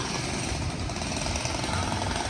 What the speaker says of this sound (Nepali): निर्माण कार्य भइरहेको छ।